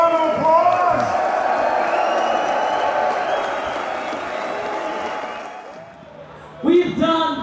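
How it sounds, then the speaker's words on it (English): A concert crowd at the Punk Rock Holiday festival applauds and cheers in a broad, steady roar that fades slightly toward the end before a brief loud burst, with a voice audible near the start. "Let's give them a round of applause."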